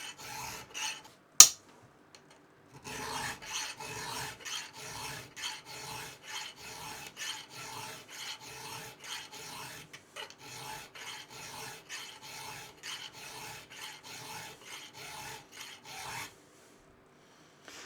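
Steady back-and-forth rasping of a hand file over a chainsaw chain's cutters, repeated even strokes for about fifteen seconds after a sharp click, close and clear with no talking.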